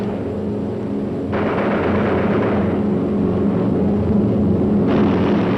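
A B-17 bomber in wartime air combat roars with a steady, loud engine drone, the noise swelling partway through, with no voices heard.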